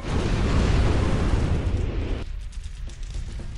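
Fire bursts up from below in the Psychonauts video game: a loud, dense roaring whoosh that holds for about two seconds, then cuts off abruptly into a quieter crackling background.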